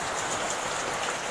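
Steady rain pours down in a dense, even hiss with no breaks, heavy and close.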